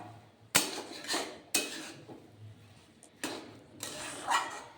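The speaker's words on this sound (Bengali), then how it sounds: "নাড়তে হবে কন্টিনিউয়াস নাড়তে হবে যাতে সুজির সঙ্গে সমস্ত উপকরণগুলি খুব ভালোভাবে মিক্সড হয়ে যায়" Semolina mixed with vegetables is stirred continuously in a pan, producing a few distinct scraping and knocking strokes of a utensil against metal spaced a second or so apart, close but fairly soft, with no talking.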